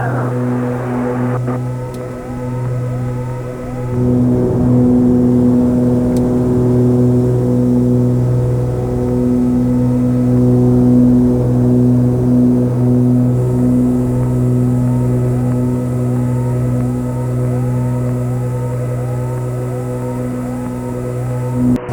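An Aerostar 702P twin-engine aircraft makes its takeoff roll at full power, steady droning engine hum with strong low harmonics and a whirring propeller tone holding throughout, heard from inside the cabin.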